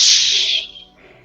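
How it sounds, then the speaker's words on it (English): A sharp whip crack snaps out loud and close, then a brief swishing tail fades away within about a second, alone with no talking. "The way it makes a whip sound."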